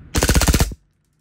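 A WE G18 G4 airsoft pistol fires on full auto in one short, loud, close burst of about eight rapid shots lasting roughly half a second, followed by silence.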